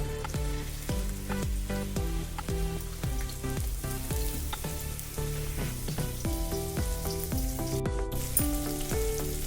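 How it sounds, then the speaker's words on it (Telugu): Green chilies and onion pieces fry loudly in hot oil, a dense, steady crackling sizzle close up that carries on without a break, with occasional light stirring. "ఇప్పుడు మనం పచ్చిమిర్చి ఉల్లిగడ్డ ముక్కలని వేసుకుంటున్నాం"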